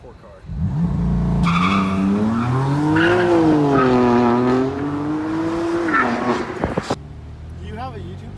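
A BMW M3 accelerates hard with engine revs climbing and falling and tires squealing in a long sustained skid, loud and close, cutting off abruptly near the end with voices following.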